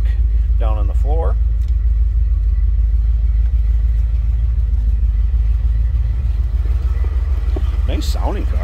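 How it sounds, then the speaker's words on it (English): Ford 351 Cleveland V8 running in an automatic car, a steady deep low rumble at idle heard from the rear, with brief voices talking over it near the start and end. "Nice sounding car. Slip around to the rear of this, you can hear it. Again, 351 Cleveland."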